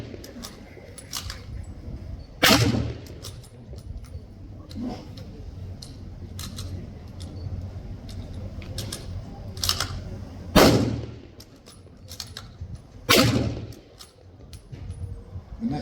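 An M1903 Springfield bolt-action rifle at a 1940s living-history event, with light metallic clicks and clacks of the bolt being worked, plus three loud, sharp blasts spaced several seconds apart.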